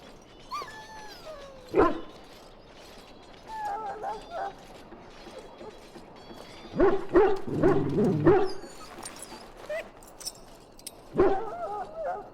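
A dog whimpers, yips and barks in the fantasy role-playing game Dragon Age Origins, scattered short calls mixed with ambient game sounds and voices speaking in between.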